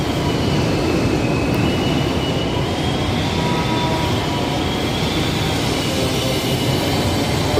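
A Chicago L elevated train runs overhead near Van Buren, a loud, steady broadband rumble and roar that fills the whole stretch without letup, with faint metallic tonal whine above it and no talk.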